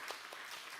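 A church congregation of young adults claps for one another after worship, a brief, very quiet wash of applause heard from a distance.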